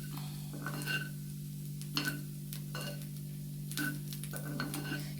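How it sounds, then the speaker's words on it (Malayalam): Coriander powder being stirred into sambar masala in a pan, giving a few scraping, shuffling strokes about once a second over a steady low hum, close and moderately loud. "മല്ലിപ്പൊടി ആഡ് ചെയ്ത് കൊടുക്കാം നല്ലോണം ഒന്ന് ഇളക്കിക്കളയും"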